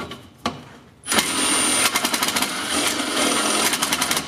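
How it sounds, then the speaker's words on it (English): A power drill bores out holes in a car hydraulic transmission part, starting with a brief tap and then a steady loud metallic whine and grind with slight pulsing as the bit bites, close and with no talking. "I'm just gonna get my drill bit out and open these up a little bit."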